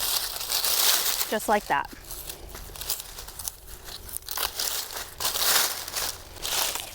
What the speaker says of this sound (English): So we're just going to take our clippers and follow the old leaves back and cut those out.